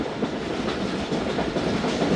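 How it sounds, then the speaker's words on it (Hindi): A train rolls along a Pakistani railway line, giving a steady, loud rumble of wheels and rattling carriages with faint clickety-clack, continuous throughout with no voices. "सामने से रेलवे ट्रैक के पैरेलल गुजर रहा है N5"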